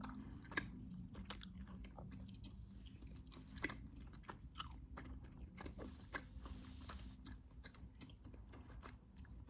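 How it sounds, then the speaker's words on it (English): Close, wet chewing of Hubba Bubba bubble gum, irregular smacks and squishy clicks repeating steadily at a quiet whisper-level volume with no speech. "I feel like Hubba Bubba gum is the most intense gum to chew in a video like this"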